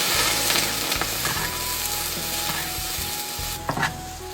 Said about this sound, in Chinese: 下入香料